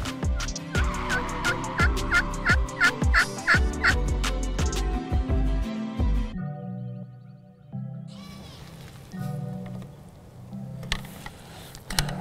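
Wild turkey toms gobble outdoors, a rapid burst of loud rattling gobbles followed by quieter distant calls and faint ambient sounds.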